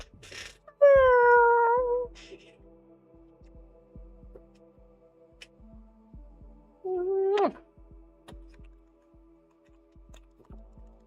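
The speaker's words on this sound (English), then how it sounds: "Y'all hear the little meow?" A pet cat gives two clear meows indoors, one drawn-out and one shorter, separated by quiet low thumping and hum.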